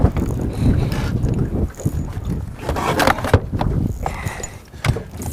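Wind gusts buffet a fishing boat on the water, a rough, blustery rush with uneven surges and dips and some knocking and rumbling against the microphone. No one talks.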